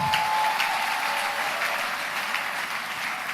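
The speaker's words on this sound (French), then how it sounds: "il y a les sœurs qui applaudissent malgré elles." Church audience of women applauding, a steady broadband wash of many hands clapping together, fairly loud and continuous, with no voices over it.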